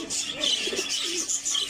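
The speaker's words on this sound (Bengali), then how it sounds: "এই কবুতরটা, এটা কি জাত? গুল্লা।" A Gulla pigeon at a bird market in Singair Bazaar, Manikganj, gives a few soft, low coos over faint background hiss.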